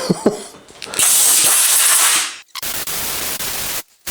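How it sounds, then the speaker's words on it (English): Compressed air blasting dirt off a very dirty bicycle: a loud, close hiss that starts in short puffs, holds for a long burst, then sounds in a few more bursts with brief pauses between them. "Compressed air is your friend here. Blow all this away from you."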